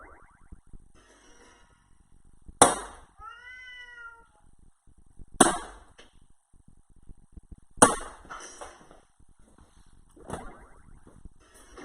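A cat meows loudly three or four times, each cry spaced a few seconds apart, with quiet stretches between and no talking.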